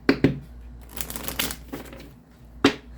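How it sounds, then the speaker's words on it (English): Tarot cards are shuffled and tapped in a few crisp bursts, close up and fairly quiet, with brief riffling flutters between sharp snaps. "One last shuffle."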